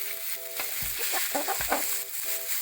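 Pork stir-fries in a little oil with pounded garlic, a continuous bright sizzle broken by repeated scraping stirs of the spatula, close and fairly loud with no talking.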